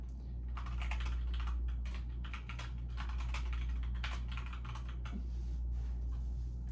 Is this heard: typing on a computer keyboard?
yes